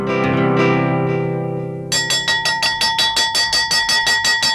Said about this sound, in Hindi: घंटी बज चुकी है